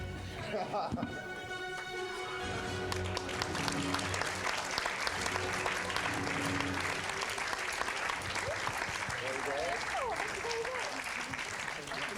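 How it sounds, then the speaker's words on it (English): Awards ceremony audience clapping in a hall, a broad dense wash of applause lasting throughout, with some tonal background music or voices underneath. "Can you all start clapping very slowly?"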